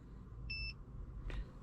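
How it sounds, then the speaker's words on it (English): A BYD 2025 Ghost-2 immobiliser gives a single short, clear electronic beep over a low, steady background hum. "It will now beep 3 times as confirmation."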